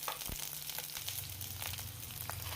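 Garlic cloves, chopped green chili and ginger sizzle in hot mustard oil, a steady close crackle with faint stirring taps, no voices.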